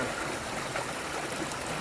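Water trickles steadily through a squeeze filter at an Appalachian Trail camp, a soft continuous splashing flow that stays even throughout with no voices.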